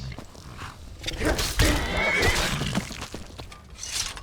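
A horse in the video game Skyrim whinnies loudly and long, close up, with some clattering and scuffling noise around it.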